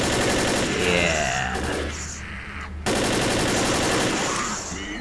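Dense, rapid gunfire from the video game Left 4 Dead fills the clip with continuous automatic bursts, loud and up close, with a brief drop in intensity before another barrage.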